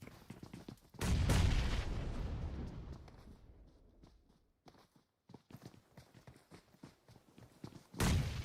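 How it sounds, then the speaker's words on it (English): Shotgun blasts in PUBG Mobile: a heavy boom at the start rolls into a long decaying tail, followed by a scatter of smaller clicks and shots, then another sharp blast right at the end. "Oh, double drop with a shotgun."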